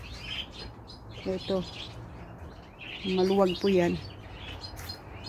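Small birds chirp and tweet in a home aviary, clear bursts of bright repeated calls around the middle and later, with someone briefly talking over a quiet background.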